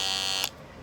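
Andis Slimline Li cordless hair trimmer running with a steady high buzz, which cuts off abruptly about halfway through, leaving quiet room tone.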